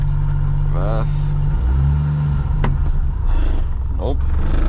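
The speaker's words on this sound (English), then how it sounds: "It's idling now, that should be reverse there." A small turbocharged kei car engine running on E85 idles steadily close by, with a brief rev midway and people talking over it.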